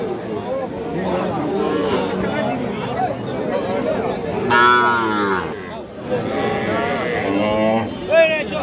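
Young heifer calves moo loudly nearby, long drawn-out calls over a busy murmur of people chatting at a crowded cattle market.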